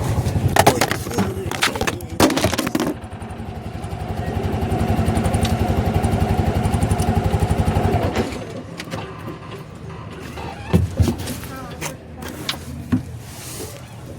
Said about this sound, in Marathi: आयुष्यात पहिल्यांदा रिक्षा चालवते